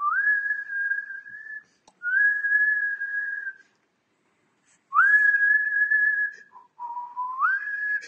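A voice imitates strong wind whistling like a kettle, with sustained, clear whistled tones in separate long blasts broken by short pauses, loud and close, the last tone rising in pitch.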